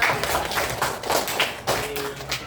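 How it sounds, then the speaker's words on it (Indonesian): A classroom group claps for a student, giving a short burst of uneven, soft claps and taps at close range. "Tepuk tangan dong buat Zahira."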